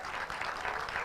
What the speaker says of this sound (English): Why don't you clap for yourselves?